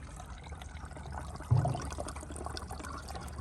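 Washer fluid mix of water and screen wash pours steadily from a watering can into a Range Rover's washer reservoir, a continuous watery gush with a brief louder splash partway through, close by.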